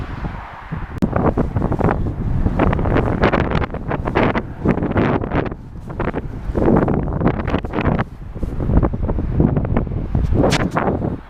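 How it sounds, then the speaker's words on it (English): Strong wind buffets the microphone on a snowy hike, a loud, continuous roaring rumble with gusty surges throughout, close and dominant, no talk. "just to get out the wind, because the wind blowing directly at me"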